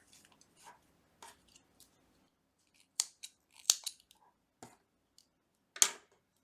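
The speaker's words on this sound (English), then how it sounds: "You just cut this yarn and pull it through just like before." Scissors cut knitting yarn in a few sharp, close snips scattered among soft handling noises, in an otherwise quiet setting.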